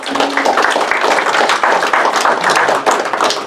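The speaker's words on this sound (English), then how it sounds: "You guys can give yourselves a round of applause." A crowd at a high school business seminar applauds the top 20 teams with brisk, dense clapping that runs steadily throughout at close range, with no speech over it.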